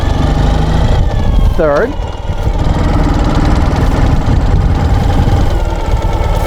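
A 2012 Ural Gear Up motorcycle engine runs loud and steady while being shifted through the gears by hand shifter, a continuous close throaty drone with a brief dip in revs; someone speaks briefly over it.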